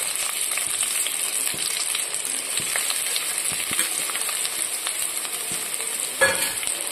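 Hot coconut oil sizzles loudly and steadily in a pan while cooking starts for a tuna fish curry, with occasional faint clicks of a spoon and no voices.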